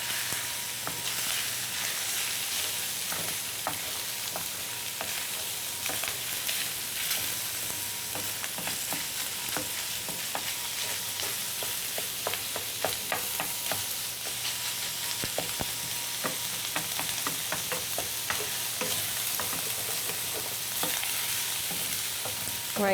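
Italian sausage and onions fry in a pan, a continuous close sizzle with frequent crackles and pops throughout and occasional stirring clatter, no talking.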